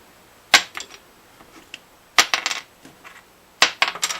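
A few hard, sharp impacts of a small object striking a surface, each followed by quick rattling bounces, spaced apart with quiet between.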